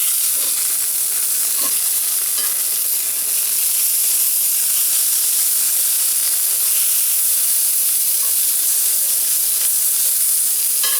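Food sizzles steadily in a pan over a soda can alcohol stove, a constant close, fairly loud frying hiss with occasional small crackles and no voices.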